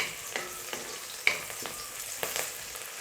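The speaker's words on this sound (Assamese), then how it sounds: "পিঁয়াজখিনি আপোনালোকে ৰঙা হোৱালৈকে ভাজিব" Onions fry in a pan until browned, with a low, steady sizzle and several light spatula scrapes and taps spaced through it, close but fairly quiet, with no talking.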